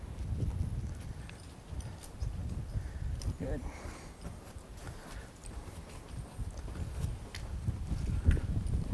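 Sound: horse hooves clip-clopping during training

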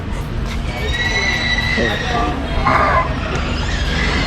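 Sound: horses neighing at a park horse ride

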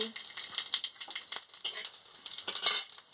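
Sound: dry red chillies tempering in hot oil

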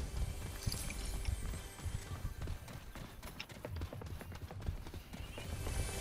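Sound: footsteps in the video game Fortnite

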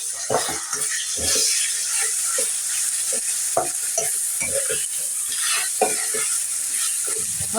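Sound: frying ginger garlic paste in a pan

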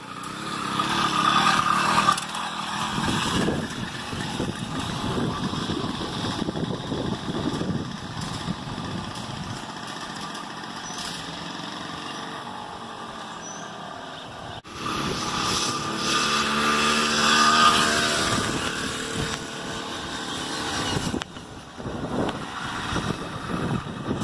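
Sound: Cy-Clone motorized bicycle engine running

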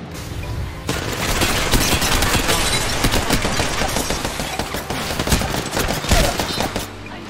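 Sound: gunfire in Apex Legends video game

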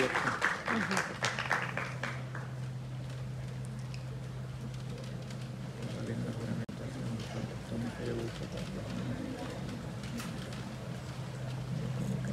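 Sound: applause at nursing capping ceremony

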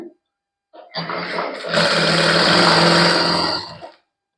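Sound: sewing machine stitching the edges of a dupatta

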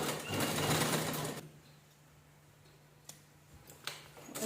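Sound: sewing machine stitching fabric

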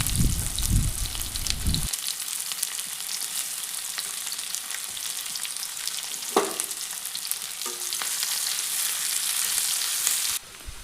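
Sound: chopped onion frying in mustard oil in a wok

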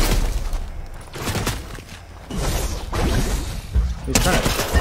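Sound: gunfire bursts in a video game

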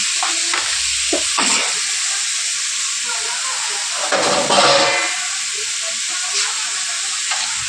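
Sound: boiled potatoes being sautéed in a pan

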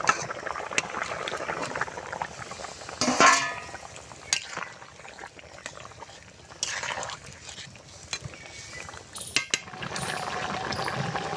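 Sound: fish and vegetable curry broth boiling

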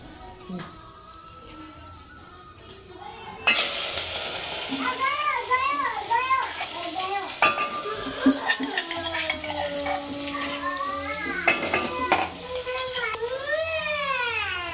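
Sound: green chillies added to sizzling tuvar curry in pan

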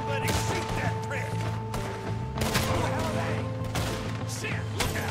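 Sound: gunfire in video game Red Dead Redemption 2

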